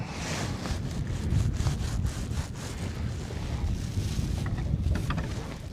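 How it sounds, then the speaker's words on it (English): Wind buffets the microphone in a continuous low rumble, with faint creaks and taps from a fishing boat on the James River underneath. "I got wind blowing right on me"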